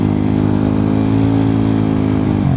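A Yamaha Mio scooter, tuned to a 300cc engine, idles loud and close with a steady harmonic drone, dipping slightly near the end.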